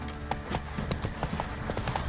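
Hoofbeats of a horse galloping in the video game The Witcher 3, a steady clip-clop rhythm of repeated thuds running through the whole short stretch at moderate loudness.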